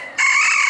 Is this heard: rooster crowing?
yes